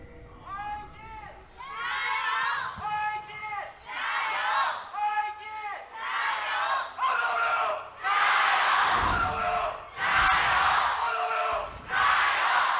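A crowd at an LPL esports match between Invictus Gaming and Rogue Warriors yells and cheers in loud, rhythmic bursts that swell into sustained roaring.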